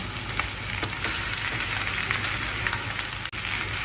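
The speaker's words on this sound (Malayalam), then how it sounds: "ഇനി ഇതിലേക്ക് വേവിച്ച് വെച്ചിട്ടുള്ള ചോറ് ഇട്ട് കൊടുക്കാം." Cooked rice drops into a hot pan of fried egg mixture, giving a steady, even crackling sizzle with faint scraping, close and continuous with no voices.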